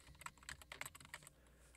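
Rapid keystrokes on a computer keyboard, a quick irregular burst of close, quiet clicks lasting under two seconds with no talking.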